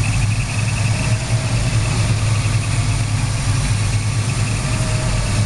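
A 1970 Dodge Challenger R/T's 383 V8 idles steadily, a deep, even rumble with a low throbbing pulse and no voices.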